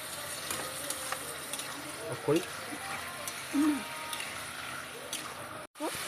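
Mutton sautéing in oil on a medium gas flame, a low steady sizzle with occasional stirring scrapes, a couple of short clatters, and a brief dropout near the end.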